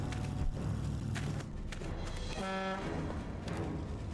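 A short, bright vehicle horn honk sounds amid game noise and clattery background effects in Destroy All Humans, with a few sharp thumps before it.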